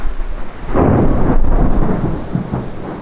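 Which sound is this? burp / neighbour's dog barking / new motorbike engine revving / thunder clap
thunder clap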